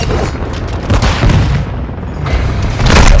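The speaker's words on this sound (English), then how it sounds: "Grenade!" Grenade explosion in the Modern Warfare video game, a loud, heavy boom rolling over dense battlefield noise and rumble, with a second blast swelling near the end.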